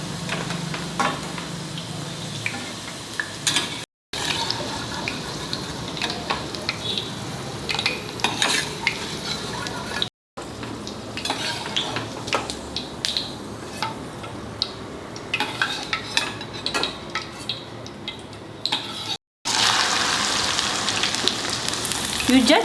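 Okra frying in an oil-filled pan, a dense steady sizzle with scraping and stirring clatter running throughout, broken by three brief moments of silence.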